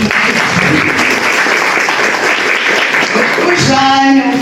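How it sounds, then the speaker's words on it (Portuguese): Applause from an audience at a university event on memory, democracy and human rights, steady and fairly loud throughout, with a voice breaking in near the end. "Palmas para todo mundo"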